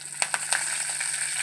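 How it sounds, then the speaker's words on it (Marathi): Mustard seeds dropped into hot oil for a spiced rice tempering, giving a few sharp crackles and pops in the first half over a steady background sizzle, close by and fairly quiet. "आता ती मोहरी टाकते."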